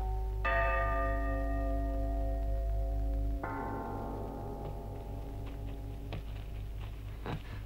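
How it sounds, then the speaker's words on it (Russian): Funeral church bells tolling from a played gramophone record in a wartime setting: strong sustained ringing tones with long decays, a second strike at mid-clip, over a steady low hum. "А в то утро еще крутили пластинки с погребальным звоном"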